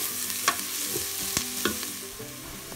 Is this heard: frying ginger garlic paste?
yes